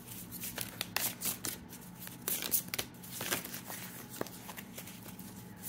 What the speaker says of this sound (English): I have a new circular tarot cards and they're hard to shuffle.